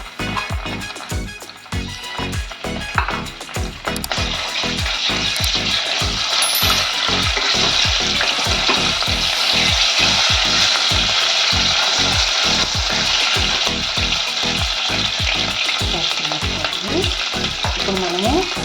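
Green chillies and ginger-garlic paste fry loudly in hot oil for a small fish curry, a steady dense sizzle with rapid rhythmic scraping and stirring clicks throughout, no talk.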